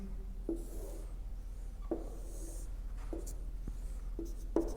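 A pen sketches a graph on paper, giving soft scratchy strokes and several short sharp taps as lines and points are drawn, close and fairly quiet, with no talking.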